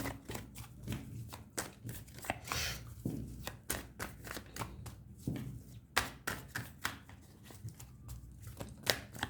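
Tarot cards being shuffled and drawn by hand, a run of crisp, irregular close slaps and riffles with short pauses between them, heard alone without speech.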